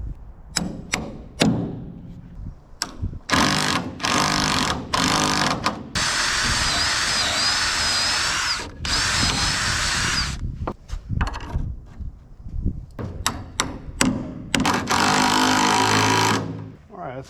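A power drill drives a bolt into the wall of a dump trailer: a sustained loud whir of several seconds, then a second burst, surrounded by clanks, knocks and handling noise close by.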